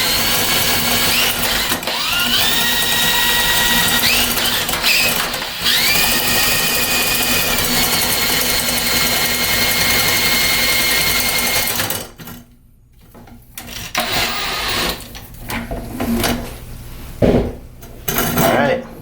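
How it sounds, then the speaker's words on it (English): A loud power drill turning a drain snake whirs steadily, its pitch shifting as it spins, then cuts off into clanks, rattles and scraping sounds. "now you can just use the power drill to go through"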